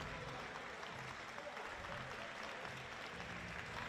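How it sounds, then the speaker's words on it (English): Faint, distant applause from home fans at a men's college basketball game, a steady wash of clapping through a large gym, with no voices over it. "And some applause here from the Algonquin fans."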